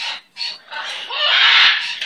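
Pet bird vocalizing up close, a run of loud raspy chirps and squawks in a quick uneven series that ends in a longer harsh call.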